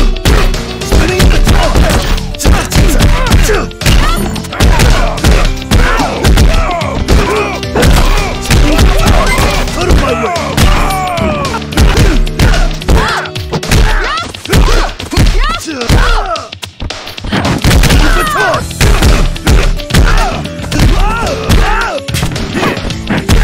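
Combo attack hits on enemies in the Double Dragon Gaiden video game land as rapid punchy thuds and crashes in dense bursts, loud and nearly continuous, with game music underneath.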